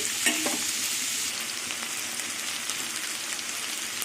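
Potatoes and onions frying in a pan for a squash (kundri) dish, a steady dense sizzle with a brief louder crackle and spatter near the start, close and continuous with no talking.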